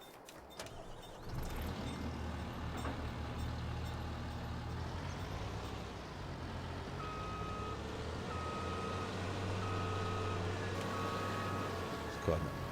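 A tractor backs up toward hay trailers in Farming Simulator 22, steady engine rumble with repeated reversing beeps through the second half, a voice talking over it at times.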